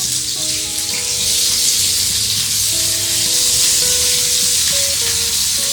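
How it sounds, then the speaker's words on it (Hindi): Minced-meat kachey keema kebabs fry in oil over medium heat, giving a steady, close sizzle that runs unbroken, with faint tonal hum in the background. "मीडियम हीट के ऊपर आप इसे पकाएंगे, आहिस्ता आहिस्ता कबाब जो है वो सुकड़ने शुरू हो गए"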